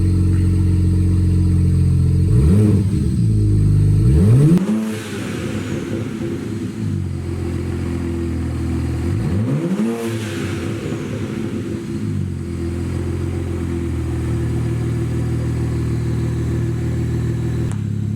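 An E92 BMW 335i engine idles loudly with a deep rumble through an open downpipe, then revs sharply twice, rising and falling each time, with an open, raw exhaust tone.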